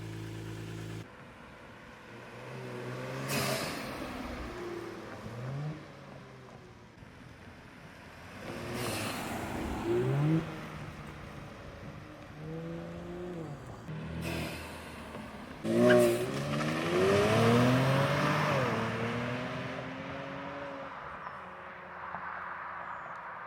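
A Kia Stinger with straight-piped exhaust, catalytic converters removed, revs up repeatedly in bursts, each rise sweeping upward in pitch with a loud, raspy exhaust note, then settling back to a rough idle between pulls.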